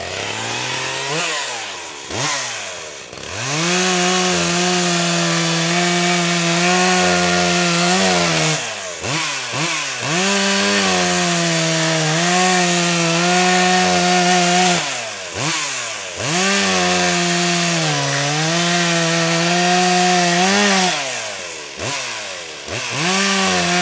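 Power saw cutting rabbets into the end pieces of scavenged 1x4 boards for a beehive body, a loud whining motor that bogs and rises through several separate cuts, with brief pauses between passes.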